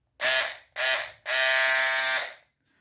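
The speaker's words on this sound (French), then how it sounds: "C'est un bruit de tondeuse." An electric hair clipper buzzes in three bursts, two short starts then a longer steady run, a bright close-up whine with a harmonic-rich motor tone and brief silent gaps between.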